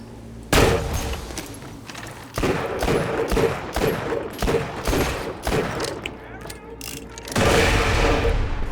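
Rapid bursts of SMG gunfire in a video game, loud clustered volleys separated by brief gaps, with a voice speaking over them.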